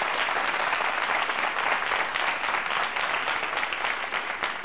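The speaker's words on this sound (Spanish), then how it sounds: "te vas con nuestro aplauso más fuerte" A television studio audience applauds on a 1990 Canal Sur variety show, dense steady clapping filling the whole stretch at even loudness with no talk.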